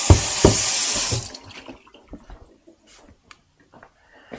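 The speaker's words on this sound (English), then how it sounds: "Soak it in water for a while, and then we wash each of the leaves off" A tap runs at full flow for about a second while garden leaves are washed, then shuts off, leaving faint drips, splashes and handling noises close by.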